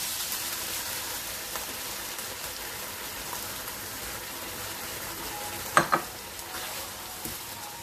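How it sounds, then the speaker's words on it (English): Steady sizzle of chili paneer frying in a hot pan as sauce goes in, a constant crackling hiss with a couple of sharp clinks of a utensil against the pan near the end. "we're going to add our sauce that we made earlier"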